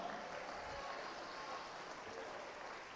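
Church congregation applauding, a faint, steady wash of many hands clapping that carries on evenly without breaks, heard from a distance.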